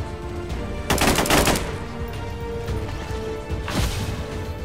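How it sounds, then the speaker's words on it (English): Bursts of gunfire in XCOM 2: a rapid volley of sharp shots followed by a second, shorter burst, loud and close with no talk. "Open fire."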